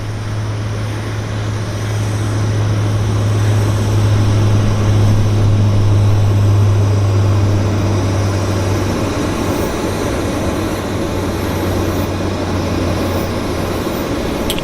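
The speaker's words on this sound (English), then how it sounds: "And here comes a Q400." A Q400 turboprop airliner at Vancouver Airport gives a loud, steady propeller drone with a strong low hum. The sound swells slightly in the middle and holds for about fifteen seconds without talk.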